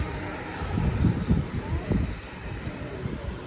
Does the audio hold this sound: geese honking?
no